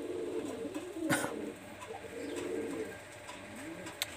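Pakistani high-flyer Teddy pigeons coo softly nearby in a series of low, rolling calls, with a sharp click or tap in the middle and no talk.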